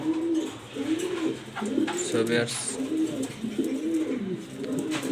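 White Roman gull pigeon cooing in repeated low rolling phrases, close and clear, with someone speaking briefly over it.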